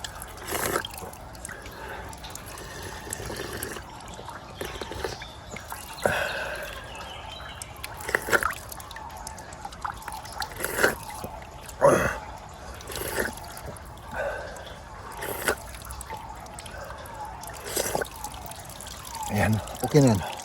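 Cold spring water pours and drips outdoors, a light trickling splash with intermittent louder spills, while people talk over it throughout.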